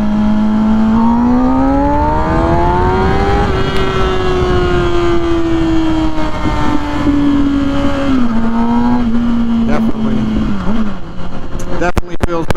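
A 2006 Kawasaki Ninja ZX-6R 636 motorcycle accelerates hard in second gear from about 7,000 rpm. The engine whine is loud, close and steadily rising, heard over strong wind noise.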